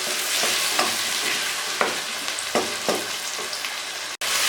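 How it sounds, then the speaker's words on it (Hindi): Chicken coated in ginger garlic paste fries loudly in a pan for Lahori chicken cholay. A close, steady sizzle is broken by repeated scraping strokes as the pieces are stirred, and the sound cuts off briefly near the end. "अब हम इसको तकरीबन 5 मिनट तक इसी तरह भूनेंगे।"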